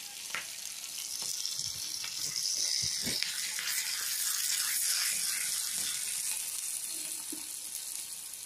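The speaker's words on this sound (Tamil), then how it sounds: "பச்சை மிளகாய் நல்லா வதங்கணும், அப்பதான் காரம் இருக்காது." Green chillies sauté in a pan for a cauliflower salad, making a loud, steady hissing sizzle with a few soft spatula scrapes early on.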